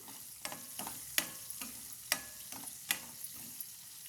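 Onions fry in a pan with a soft, continuous sizzle, punctuated by a few sharp spoon or spatula taps at irregular intervals, quiet and close, no voices.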